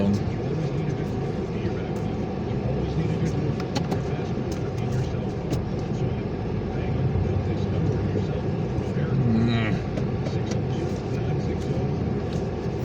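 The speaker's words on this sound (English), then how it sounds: "Fun driving challenge, trying to get out of here." Saturn car maneuvering out of a tight drive-thru spot, a steady low engine and road rumble heard from inside the cabin, continuous and moderately loud with faint background noise.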